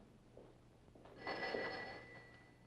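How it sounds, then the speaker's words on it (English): A 1970s office telephone bell rings at moderate distance, a bright sustained ring swelling for about a second and a half then fading, over a low steady room hum with no talk. "I believe my phone is ringing."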